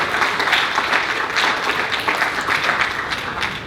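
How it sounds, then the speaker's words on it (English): Audience applause welcoming returning panelists to a Title IX panel, a dense, steady wash of many hands clapping at even loudness throughout. "So let's all give them a round of applause and welcome them back."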